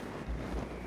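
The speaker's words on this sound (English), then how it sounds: "The wind's blowing so hard, we're having hell trying to finding protected banks." Steady, roaring wind buffets the microphone for a moment on a boat at a fishing tournament in Delacroix, Louisiana, a low rumbling gust with no voices.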